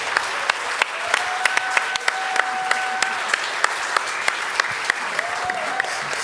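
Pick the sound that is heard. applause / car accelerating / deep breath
applause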